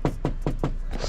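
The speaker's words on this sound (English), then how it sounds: "Knock on door." Knocking on a door during a grocery delivery drop-off: four evenly spaced, firm knocks followed by a softer fifth, close and dry, with no voices.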